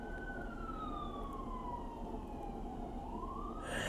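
An emergency siren wails with a slowly falling pitch as a vehicle passes, moderately distant, over steady traffic rumble.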